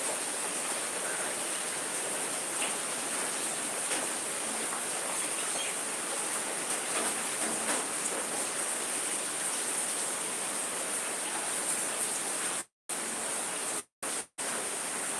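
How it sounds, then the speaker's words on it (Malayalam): Heavy rain pours down in a dense, unbroken roar, loud and close, with the sound dropping out briefly near the end. "ഇവിടെയും നല്ല മഴ"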